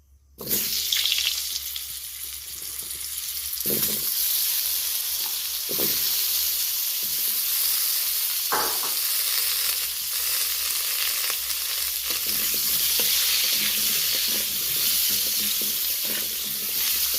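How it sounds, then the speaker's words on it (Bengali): Potatoes fry in hot oil in a wok, giving a steady, close sizzle with occasional stirring clatters and scrapes breaking through the continuous hiss. "এবার আমি ওই তেলে আলুগুলো একটু লালচে করে ভেজে নেব।"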